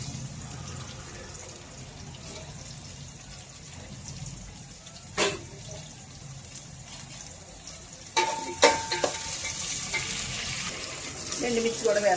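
Potatoes with green chillies, then onions, sizzling and frying in a pan with occasional stirring scrapes and clinks, a steady low crackle throughout that grows busier toward the end.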